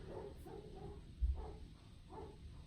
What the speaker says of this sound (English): There's like 10 dogs barking outside.